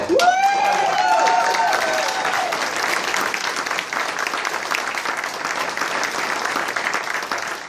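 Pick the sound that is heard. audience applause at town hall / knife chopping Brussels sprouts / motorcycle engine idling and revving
audience applause at town hall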